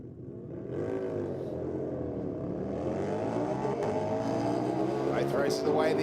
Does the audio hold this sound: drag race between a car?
yes